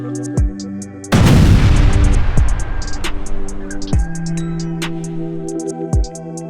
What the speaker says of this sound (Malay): Bergegar dan bergoncang T-72 terkena bedilan.